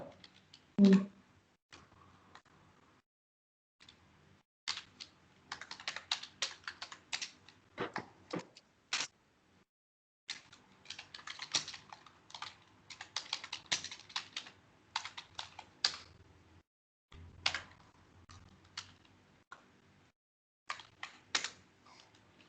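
Computer keyboard typing of a Unix bash command, heard as quiet, close bursts of rapid clicks in irregular runs separated by short pauses, with no voice over it.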